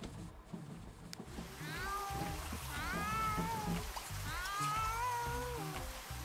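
A cat meows several times in a row, drawn-out rising and falling cries of moderate loudness over a low background murmur of voices.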